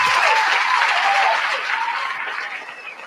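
Loud, dense applause from a live talk-show studio audience, steady for about three seconds and tapering slightly at the end, with no voices over it.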